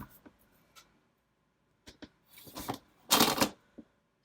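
Paper is trimmed for a Happy Planner page, with faint scattered snips and rustles building to a brief, loud rasping cut near the end, heard close up with no talking.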